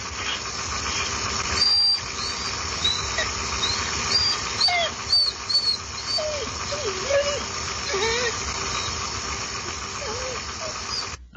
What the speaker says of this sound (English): And here we have a dog.